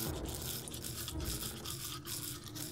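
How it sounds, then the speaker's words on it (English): Brisk, rhythmic toothbrush scrubbing plays throughout a toothbrushing minigame in the video game Deponia, a steady bristly rasp with repeated strokes, close and continuous with no talk. "We're actually doing a big and small freaking toothbrush. Toothbrushing scene."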